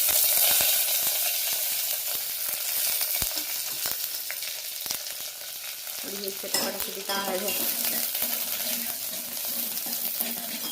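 Onion and curry leaves fry in two spoons of oil after mustard seeds splutter in a tempering, a steady close hiss and crackle with scattered pops and occasional stirring scrapes, no talking.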